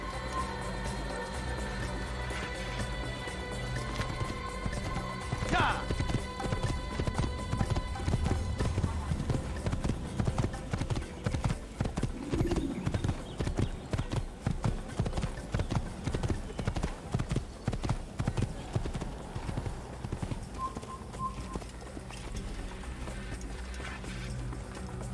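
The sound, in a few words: horse hooves at slow walk in Assassin's Creed video game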